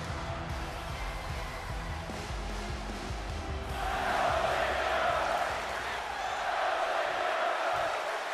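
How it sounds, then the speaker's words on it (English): An arena crowd in the WWE 2K23 wrestling video game cheers during a SmackDown match, with a steady roar that swells louder partway through and holds. "Will that crowd reaction be enough to will Ziggler on as this matchup is underway on SmackDown?"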